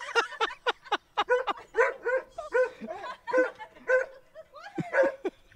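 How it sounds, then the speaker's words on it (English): A very big dog barks repeatedly in short, loud, close bursts, with a few yips and whimpers mixed in and brief laughter in the room. "which is a very big dog, who just decided to lose it"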